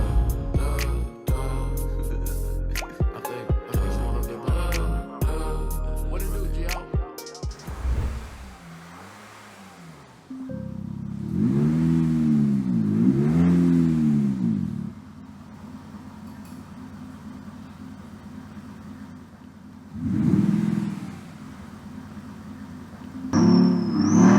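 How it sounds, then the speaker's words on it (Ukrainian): An Audi A6 C7 diesel with a MAXHAST electronic active exhaust sound system revs up in several loud bursts with a deep, rumbling exhaust note, settling to a steady idle between surges; other sounds precede it briefly. "звуком вихлопної системи, ми встановили сюди електронний вихлоп Max Audi"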